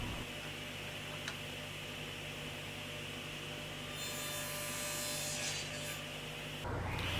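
A saw blade cuts a shallow quarter-inch groove around a wooden piece, a steady continuous grinding rasp at close range with a brief sharp tick early on and a brighter, harsher stretch of cutting near the end.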